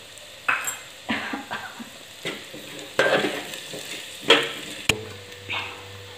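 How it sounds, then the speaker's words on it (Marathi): A spoon stirs a potato and cabbage mix with coriander in a pan, scraping and tapping against the metal in uneven strokes. Soft sizzling runs underneath and no one speaks. "आता मी कोथिंबीर पण घातलेली आहे यामध्ये, तो व्यवस्थित असं मिक्स करून घेऊ"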